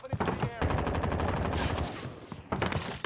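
Rapid gunfire from a Call of Duty Warzone match on Rebirth Island, loud dense bursts of shots filling most of the moment, with a short pause and more shots near the end.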